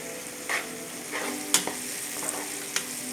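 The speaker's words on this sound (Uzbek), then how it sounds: "Bu aralashmamizda qovurib olamiz." A garlic-heavy mixture frying in a pan, a steady soft sizzle with a few scrapes and clinks of stirring, close and moderately quiet, no voices.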